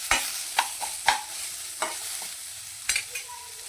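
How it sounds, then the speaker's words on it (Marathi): Onion frying in oil in a kadhai, a steady soft sizzle with a few sharp stirring scrapes spaced through it, close and fairly quiet, with no voices. "कांदा भाजण्यासाठी टाकलेला आहे कढईमध्ये"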